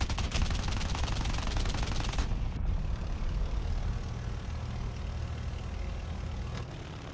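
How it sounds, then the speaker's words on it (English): Aircraft gunners in War Thunder fire machine guns in a rapid, continuous rattle over a steady roaring engine drone; the rhythmic firing is loud for the first two seconds and then fades into the constant engine noise. "My gunners shoot at him while I try to fly up."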